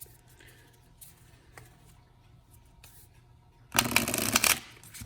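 A deck of Woodland Wardens playing cards riffle-shuffled once, a loud rapid fluttering burst near the end after quiet room tone.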